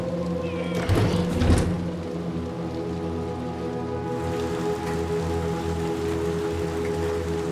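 Steady rain from the Little Nightmares video game, a constant soft patter layered over low droning tones, with a few heavier thumps near the start before settling into an even wash.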